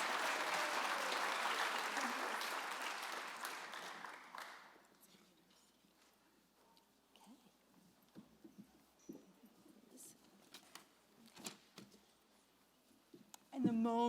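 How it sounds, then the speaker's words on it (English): Audience applause at the 2019 Sullivan Renaissance Awards Ceremony, a full round of clapping that fades after about four seconds into scattered claps, shuffling and murmuring in the room. "A big round of applause."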